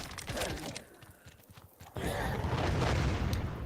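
Cataclysm arrow explosions in the VR archery game In Death: Unchained: dense, crackling bursts and booming blasts, thinning briefly before a loud, sustained roar of explosions takes over.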